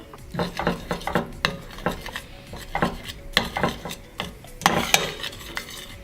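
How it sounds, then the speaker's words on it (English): Peanut butter and maple syrup warming together in a pot while a utensil stirs and scrapes, making quick, irregular clinks and scrapes up close, with no talking. "heat the peanut butter and the maple syrup together. So that's what I'm doing right now."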